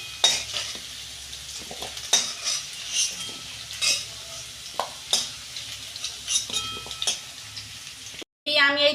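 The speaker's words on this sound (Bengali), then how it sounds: "আমি এই চিচিঙেগুলো ভেজে নিচ্ছি।" Sliced ridge gourd frying in oil in a pan, with soft steady sizzling and intermittent scrapes and clinks of a utensil stirring against the metal, heard close up with no talking.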